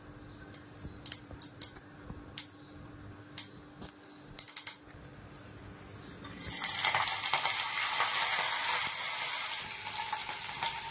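A few sharp pops and crackles, then a loud, sustained sizzle of mustard seeds and curry leaves spitting in hot oil.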